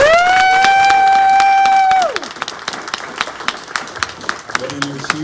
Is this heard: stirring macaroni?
no